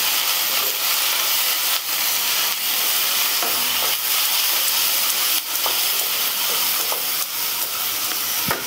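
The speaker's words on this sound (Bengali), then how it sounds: "এবার এই গুঁড়ো মশলাগুলো ওই মশলার সাথে ভালো করে আবারও মিশিয়ে নিচ্ছি" Ground spices, including Kashmiri chilli powder, are stirred into a frying masala in a pan, a continuous sizzle broken by repeated scraping strokes of the spoon at an uneven rhythm, close and fairly loud, with no talking.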